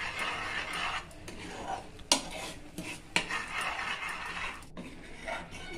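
A spoon stirs homemade fruit jam cooking with sugar in a pan, producing soft scraping and clinking against the metal with a couple of sharper knocks, faint and close, with no talking.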